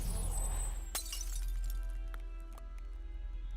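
A bright glassy shatter bursts out in the video game Arknights, followed by tinkling fragments and lingering ringing tones over a low hum.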